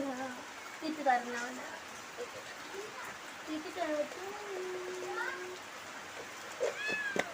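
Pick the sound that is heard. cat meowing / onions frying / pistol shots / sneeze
cat meowing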